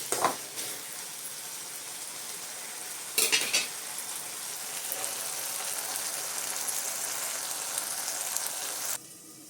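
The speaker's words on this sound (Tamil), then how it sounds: "இப்போது இந்த வெங்காயம் தக்காளி வதக்கும்போது அந்த மிளகாத்தூளை போட்டு வதக்கி விட்டுறணும்" Onion and tomato sautéing with chilli powder for a prawn semi-gravy, a steady hissing sizzle with sharp bursts of stirring near the start and again around the third second, cutting off near the end.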